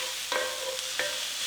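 Rabbit pieces seasoned with salt and pepper being stirred in a hot pan, a soft steady sizzle broken by two brief scraping strokes of a utensil, with no talking.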